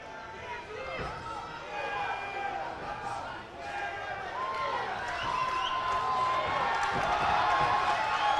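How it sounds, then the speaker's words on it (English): Crowd at a Canadian heavyweight kickboxing title fight held at the docks: a steady murmuring audience with scattered cheers and applause, heard under commentators talking. "Very appreciative crowd here at the docks"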